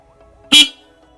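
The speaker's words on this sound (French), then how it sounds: "On va donc tester le klaxon afin qu'on voie déjà le bruit d'origine." Stock horn of a Suzuki Bandit 400 motorcycle gives one short, loud honk, sounding alone against a quiet background.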